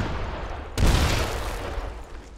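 Gunfire in the real-time strategy game Iron Harvest cuts in with a sudden loud blast partway through, after a low rumbling battle din, and its echoing tail lingers afterward.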